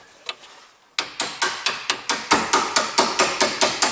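A hammer strikes a metal tool during drive shaft removal on a Honda Civic, giving about fourteen sharp, close metallic blows in a steady, fast rhythm, preceded by a few quieter taps.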